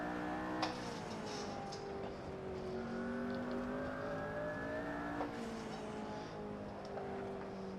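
A McLaren P1 hybrid supercar with turbos and electric assist accelerating around the Nurburgring, heard from inside as a loud continuous engine drone rising and dropping in pitch through gear changes.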